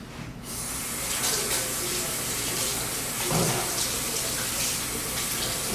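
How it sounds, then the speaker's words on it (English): Water runs steadily from a kitchen faucet as hands are washed while making biscuits, a loud, continuous hiss that starts abruptly and carries on without a break. "I'm going to wash my hands real quick."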